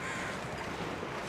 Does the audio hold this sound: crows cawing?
yes